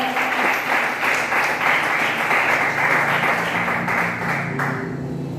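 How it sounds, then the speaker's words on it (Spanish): A church congregation claps in strong, sustained applause with a loose rhythmic pulse, filling the room evenly and fading only slightly at the end. "Démosle un fuerte aplauso al Señor."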